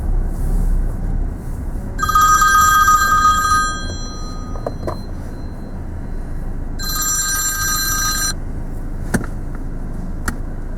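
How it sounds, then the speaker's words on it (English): A mobile phone ringtone goes off inside a car during a driving lesson, two separate bursts of bright, repeating electronic tones over a steady low cabin and road hum, with no talking. "No, that was my phone ringing this time, not Jan's."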